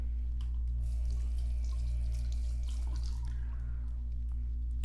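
Fenty Skin exfoliating body scrub lathered under running water from a sink tap, a steady soft stream of water with faint wet rubbing and dripping throughout.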